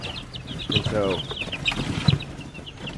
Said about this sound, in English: we went and got the chickens